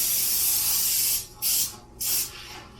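Three close hissing bursts of cooking oil spray onto a quarter sheet baking pan, a long one followed by two short squirts, loud and near with no talking.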